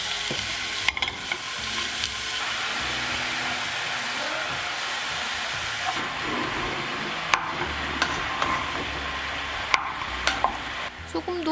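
Mushrooms added a portion at a time to a single pot for mushroom risotto, sizzling steadily with repeated stirring and scraping, with sharper clinks and scrapes toward the end.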